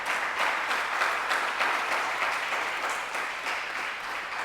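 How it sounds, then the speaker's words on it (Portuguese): A church congregation claps together in worship, sustained even applause with a rhythmic pulse running for several seconds, steady and moderately loud. "Dá um aplauso a Jesus aí."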